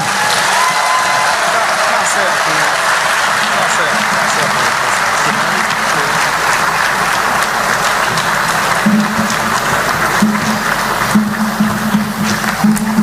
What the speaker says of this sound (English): a round of applause for His Excellency John Dramani Mahama, President of the Republic of Ghana